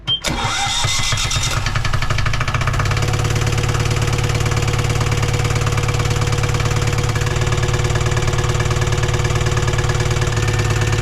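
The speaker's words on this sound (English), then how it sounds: "in a minute I'm gonna have you start the engine" A boat engine cranks briefly and catches, then settles into a steady, loud mid-pitched idle that runs on evenly without any talk.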